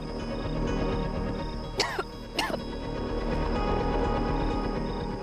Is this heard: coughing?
yes